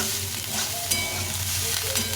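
A short stretch of cauliflower frying in a little oil: an even, close crackling hiss with one brief scrape, set against low steady music.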